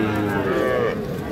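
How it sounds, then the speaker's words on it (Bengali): A bull calf moos at a busy cattle market in Ambari, one sustained nasal call that swells and fades over a dense, noisy crowd backdrop. "ষাঁড় বাছুর আমবাড়িহাট থেকে দেখতেছেন"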